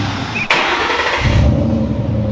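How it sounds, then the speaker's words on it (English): A mostly stock Ford Mustang Foxbody GT/CS with a catback exhaust cranks and fires up, settling into a loud, deep, steady exhaust rumble close by. "It's got a catback exhaust though, so it's just got a deep rumble."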